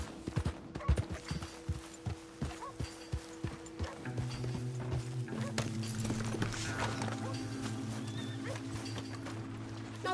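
A horse's hooves clip-clop in steady, close rhythm in a PS4 game, loud and distinct at first, then settling under a low droning tone and background game sounds.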